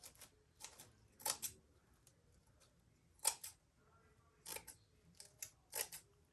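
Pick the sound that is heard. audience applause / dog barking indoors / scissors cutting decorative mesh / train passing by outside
scissors cutting decorative mesh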